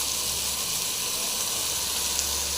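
Asafoetida and tomato sizzle in a hot pan for drumstick leaf rasam, a steady close frying hiss that runs unbroken at an even level with no talk over it.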